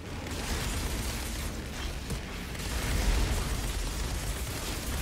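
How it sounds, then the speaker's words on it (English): Rumbling explosions and bursts from the Outriders video game fill the clip, a dense, continuous low-heavy barrage with heavy processing, swelling around the middle and staying loud throughout with no talking. "Look at all those explosions."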